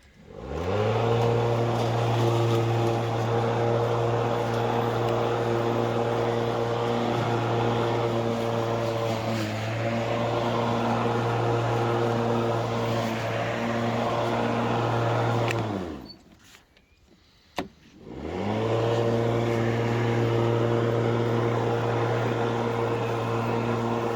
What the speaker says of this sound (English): I'm about to mow.